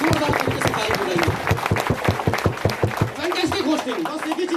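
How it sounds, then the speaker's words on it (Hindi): An audience claps at a Mi Lifestyle company event. The clapping is a rapid, rhythmic run of sharp claps close by, with a voice speaking over it. "जोरदार तरीके से ताली बजाइए"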